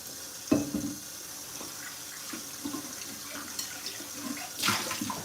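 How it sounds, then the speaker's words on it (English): A kitchen tap runs while a cup that held matcha is rinsed, with close splashing and sloshing water, a sharp knock near the start and a louder gush toward the end. "Let's rinse it out."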